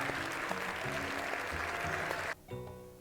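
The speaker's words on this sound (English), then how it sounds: "that stock applause sound effect" A stock applause sound effect: a dense crowd-style burst of clapping goes on steadily, then cuts off abruptly near the end and is followed by a brief quieter tail.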